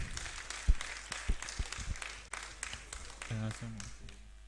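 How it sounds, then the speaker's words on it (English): Audience applause at a school investment quiz competition as a team takes the stage, a steady patter of many hands in a hall with a few louder claps, quieter toward the end as a voice begins speaking. "Let's clap for them as they come."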